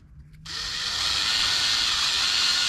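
Drill bit run gently through the line hole of an Echo Speed Feed 450 trimmer head: a power drill whirs up to speed after a short pause and holds a loud, steady high-pitched whine, close by.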